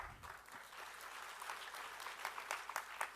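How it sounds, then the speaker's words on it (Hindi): An audience at a talk claps together, a broad steady patter of many hands that swells slightly toward the end, heard from a middle distance with no voice over it. "यहां तक भी तालियां आपकी अच्छी हैं"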